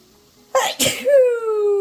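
A single sharp sneeze bursts out close by, followed by a short voiced sigh trailing off.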